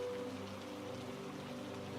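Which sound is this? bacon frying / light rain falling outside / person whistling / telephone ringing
light rain falling outside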